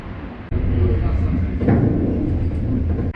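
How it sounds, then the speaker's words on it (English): Interior of a Wrocław tram on route 9 in motion, a steady loud low rumble of wheels and motor running throughout after a brief dip near the start, with a swelling whine partway through. "I just took tram number 9 to Chopina"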